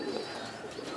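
Racing pigeons, of the kind flown in high-flying tomprang contests, coo softly and steadily, a low murmuring call held close and continuous for about a second with no talk.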